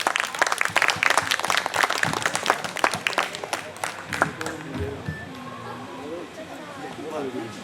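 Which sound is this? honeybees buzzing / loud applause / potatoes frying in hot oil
loud applause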